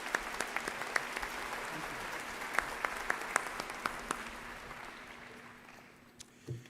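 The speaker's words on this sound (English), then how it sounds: "Please give Dr. Douglas Presley and the Winthrop Commencement Band a round of applause" An outdoor university commencement crowd applauds a band after its concert: scattered, distant claps with sharp individual hand strikes that thin out and fade toward the end.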